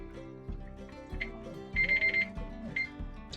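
A kitchen timer goes off after a one-minute boil while squash is prepared for freezing, its short bursts of bright ringing beeps repeating clearly over a low background hum.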